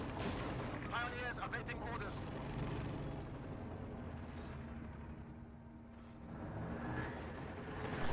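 Mines detonating across a World War II strategy video game battlefield, a dense rumble of overlapping blasts and crackling game effects running steadily throughout, with someone commentating over them.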